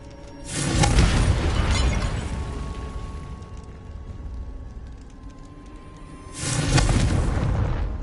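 Confringo blasting curse exploding in Hogwarts Legacy, two loud booming blasts with crackling debris, the first rumbling away slowly and the second hitting near the end.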